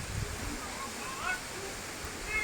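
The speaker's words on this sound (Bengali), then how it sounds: "অনেক ওপর থেকে পড়ছে জল এখানে।" Kiukhola, a mountain waterfall on the Silk Route road toward Zuluk, drops from high above and makes a steady broadband rush that holds even throughout.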